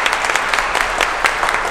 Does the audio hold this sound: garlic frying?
no